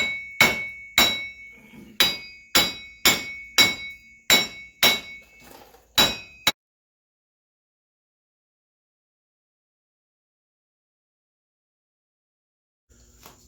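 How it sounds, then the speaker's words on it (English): Repeated sharp hammer blows on a rusted wheel hub of a Cadillac Escalade, about ten ringing metallic strikes in a steady rhythm, loud and close, followed by silence. "Keep a nice trusty hammer on standby and just hit it a little bit until it comes off."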